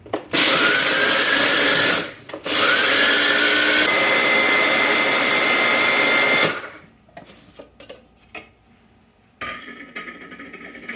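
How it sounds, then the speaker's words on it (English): Electric kitchen grinder pulverizing crackers into crumbs for Florida blue crab cakes, loud whirring bursts of about two and four seconds with a brief stop between, then quieter clatter and a short final pulse. "We're going to grind the crackers first."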